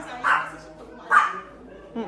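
Dog barking indoors at a house, two short separate barks about a second apart, close and fairly loud, followed by a brief sound at the end.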